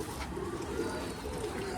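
Racing pigeons from a tournament-winning loft in Bangalore coo steadily nearby, soft low burbling calls that overlap continuously, with faint voices in the background.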